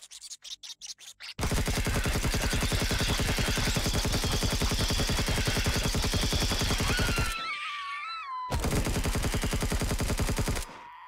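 A sentry gun turret in Empyrion fires in long, rapid bursts of loud, evenly spaced shots, cutting off briefly once before resuming, with a shrill creature cry heard between the bursts.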